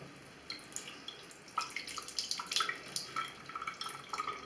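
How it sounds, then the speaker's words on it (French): Water from a household tap trickles and drips into a sink, faint and close, with scattered small splashes over a quiet background. "vous fermez le robinet d'eau froide et vous n'avez que de l'eau chaude"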